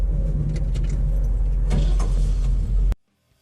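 1977 Chevy K10 pickup heard from inside while driving, a steady low engine rumble with road noise and a few faint rattles, ending abruptly after about three seconds; no talking.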